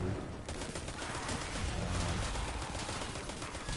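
Sustained automatic rifle fire in Destiny 2: Forsaken, a dense, continuous stream of rapid shots at steady loudness with no pauses, set against game ambience.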